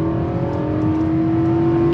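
A 2023 Infiniti QX80 SUV engine pulls hard under a full-throttle 0 to 60 run, a steady loud droning hum with a strong sustained tone, heard from inside the cabin with no talking.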